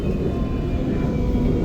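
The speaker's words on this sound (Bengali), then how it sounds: "সো আমরা এমআরটিতে উঠে পড়ছি। এটা হচ্ছে মনোরেল।" Rumbling hum of a monorail train in Kuala Lumpur heard from inside a carriage, a steady low roar with a faint high whine, continuous and close.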